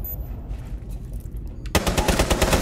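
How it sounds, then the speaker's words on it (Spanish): Automatic gunfire in Rainbow Six Siege, starting partway through as a dense burst of rapid, loud shots after a stretch of quieter game ambience. "han disparado por aquí"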